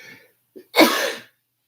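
One sharp, close sneeze bursts out after a short intake of breath, a brief noisy blast that cuts off quickly into silence.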